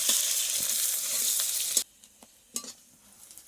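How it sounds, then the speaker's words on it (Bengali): Loud sizzling of chopped onions frying in oil, then the hiss drops away abruptly and a few spoon scrapes and knocks against the pan follow. "আমার পেঁয়াজগুলো লাল লাল করে ভাজা হয়ে গেছে"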